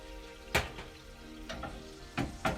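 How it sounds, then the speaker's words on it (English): Soft sizzling of food in a pan, with a few sharper crackles and spatters popping up over a low steady hiss. "You can hear that straight away starting to sizzle."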